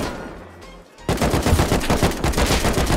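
Automatic gunfire in the video game Rust bursts in abruptly after a quiet moment, a rapid, loud, continuous stream of shots that keeps going to the end.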